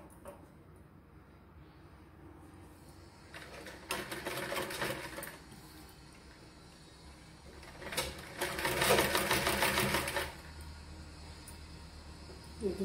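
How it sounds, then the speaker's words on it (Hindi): Home sewing machine stitching a girl's frock, two bursts of steady rapid whirring stitching with quiet pauses between, close and moderately loud, no talking. "ये भी इसको ऐसे सिलाई करेंगे।"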